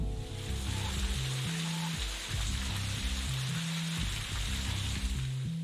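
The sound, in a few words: rain outside, from the video game Necrobarista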